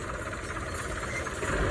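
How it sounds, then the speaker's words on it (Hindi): A tractor engine labouring under heavy load while hauling soil in a village, a loud, continuous low rumble with no breaks. "जोर लग रहा है जोर ट्रैक्टर भी कमाल का ट्रैक्टर माशाल्लाह बड़ा जोर है"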